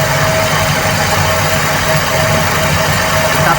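A Toyota 2E carbureted engine idles steadily at a raised 1500 RPM, a continuous low mechanical hum with a faint whine running through it, loud and close throughout with no talking.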